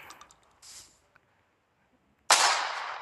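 A video game gun mod fires a single loud, sharp gunshot that rings out and decays slowly, preceded by a few faint clicks and a short rustle.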